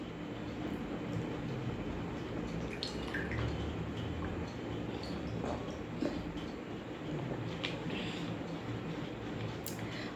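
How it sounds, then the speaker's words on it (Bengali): Drinking water bottles being filled one after another, a steady wash of running water close by with small splashes and drips, continuous and fairly quiet throughout. "খাবার জল ভরছি"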